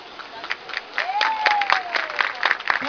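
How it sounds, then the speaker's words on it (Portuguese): Audience at a belly dance showcase during a university fashion day applauds, with scattered claps building to a fuller round and a long rising-then-falling whoop or whistle gliding above the clapping. "Vamos aplaudir neste momento tão especial."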